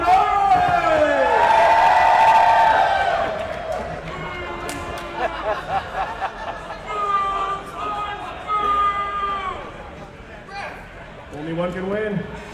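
A crowd at a Rumble in the Prairie competition cheers, whoops and shouts for a competitor named Chance. The roar is loud and sustained at first, then breaks into scattered, uneven bursts of yelling and whistles.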